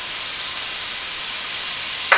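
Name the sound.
mushrooms and garlic sizzling as added to the pan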